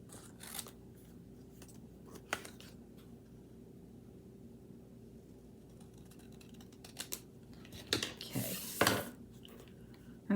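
Paper card being cut along straight edges for a handmade nativity Christmas card, heard as quiet intermittent snips and scrapes spread across the stretch, with a louder cluster of cuts near the end over a low steady background hum.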